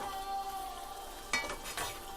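Roasted vegetables with tomatoes, onions and ginger are mixed in a pan, a soft background sizzle with two or three sharper scrapes of the utensil near the end, faint and without speech.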